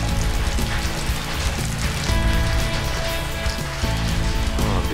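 Steady rain falls outside on a gray day, a dense, even hiss of drops hitting surfaces that continues throughout without any voices.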